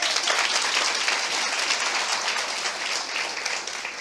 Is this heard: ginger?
no